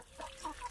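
Soft, close clucking from a hen sitting on a nest in a backyard poultry yard on a hot summer day, a few short murmured notes with no talk.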